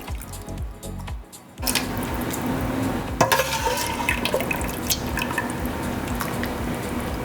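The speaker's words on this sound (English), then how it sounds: "now I'm gonna ladle it into our soup tureen" Thick lasagna soup ladled into a soup tureen, with wet pouring, sloshing and dripping sounds close up, a brief pause near the start, then steady liquid splashes throughout.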